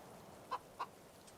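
Chickens in the role-playing game Divinity Original Sin 2 give two short, quiet clucks against a low ambient hum, with nobody speaking.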